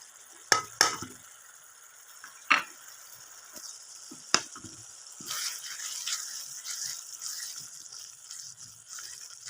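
Spices roasting with softened tomatoes in a pan for a bottle gourd and chana dal dish give a faint sizzle, broken by a few sharp spoon scrapes and stirring knocks early on, then a steadier hiss.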